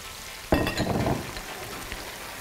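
Green onion and onion hit hot oil in a pan for jjamppong-style Neoguri ramen, bursting into a loud sudden sizzle that crackles on and gradually settles into a softer frying hiss.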